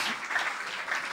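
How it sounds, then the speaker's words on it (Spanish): A congregation at a church service applauds loudly, a dense, steady wash of many hands clapping together that fills the space evenly from start to finish. "¿Cuánto le pueden dar un aplauso fuerte al Señor?"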